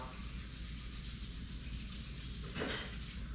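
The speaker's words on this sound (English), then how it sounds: "Rub your palm" Palms rubbing together during a yoga session, a soft continuous close-up swishing hiss with a slightly stronger stroke near the end.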